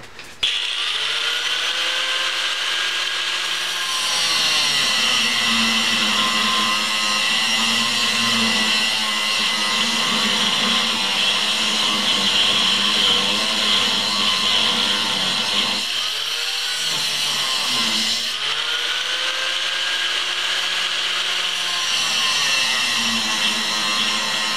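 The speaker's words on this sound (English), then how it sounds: "I figured I would cut small slices there and then somehow grind it off" A power tool grinds and cuts steel on an old axe head during restoration. It is a loud, steady whine with a brief drop in pitch midway, and then the grinding resumes.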